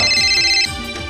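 A mobile phone ringtone plays loud and close, a bright repeating electronic melody with a pulsing beat, with no one talking.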